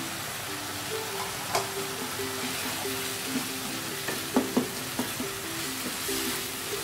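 Mince and potato curry sizzling in a pan while being stirred, a continuous frying hiss with intermittent scraping and clicking strokes of the spoon, close and moderately quiet.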